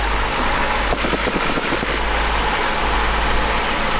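A Cessna 150 aircraft engine runs up to about 600 RPM before flight, a loud, steady, close piston drone that holds evenly throughout.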